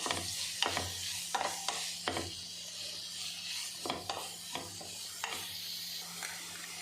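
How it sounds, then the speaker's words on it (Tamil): Three finely chopped onions with curry leaves fry in a pan for Chettinad chicken, a low sizzle broken by repeated scraping stirs of a spatula against the pan, close and fairly quiet with no talking. "மூணு வெங்காயம் வந்து நல்லா பொடுசு பொடுசாக இப்படி கட் பண்ணி வச்சுருக்கோம் இதை நல்லா வறுத்துக்கலாம்"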